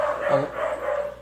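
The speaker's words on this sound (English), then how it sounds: "sorry about the dogs in the background" Dogs bark in the background indoors near a home aquarium, a short burst of yapping blended with other room noise and fairly faint.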